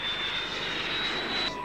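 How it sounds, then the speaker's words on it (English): A de Havilland Vampire, an early British jet, flies past at the Avalon airshow in Australia in 1997, its steady loud jet roar with a high whine holding throughout and no talk. "The Vampire was one of the first jets ever designed coming out of Britain just after World War II."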